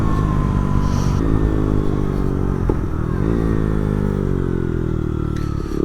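A motorcycle engine drones steadily and loudly close by while riding, with harmonic tones gliding down and back up as the revs shift, alone without talk.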